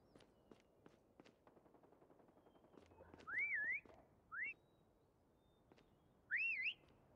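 Three rising whistle tones sound over quiet background in Call of Duty prop hunt, two close together and one after a pause, with faint scattered clicks and taps throughout.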